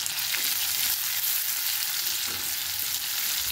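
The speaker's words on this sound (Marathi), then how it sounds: "आता ह्याच्यामध्ये आपण हिरव्या मिरचीचे जे उभे काप करून घेतले होते ते टाकले।" Green chilli strips crackle and sizzle in hot oil tempering with garlic, a dense, steady frying hiss close by throughout, with no talk.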